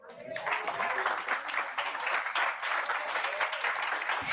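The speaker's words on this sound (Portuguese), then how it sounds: "Aplauda a Jesus, vai." A church congregation claps steadily throughout, a dense, continuous round of applause with a voice carrying faintly over it.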